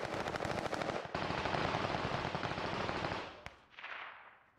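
Rapid automatic gunfire from an SMG in a video game shooter, a dense continuous burst lasting about three seconds, then a single sharp shot and a short trailing burst.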